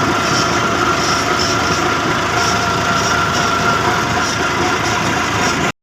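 A farm tractor engine runs steadily on the way out to rotavate a field, a continuous droning rumble with a faint higher whine, loud and close, cutting off abruptly at the end.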